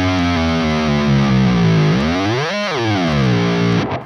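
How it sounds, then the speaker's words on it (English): Heavily distorted electric guitar through a Soldano SLO 100 amp plugin with a transposer: a sustained chord whose pitch sweeps down, then dips and rises sharply, then settles, loud and close. "it's essentially allows you to change the pitch of your whole guitar by just doing this"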